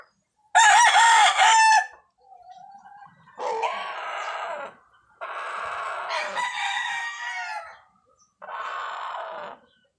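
A Sweater crossed with Gilmore gamefowl rooster crows loudly and close by, several separate crows in a row with short quiet gaps and faint clucking between them.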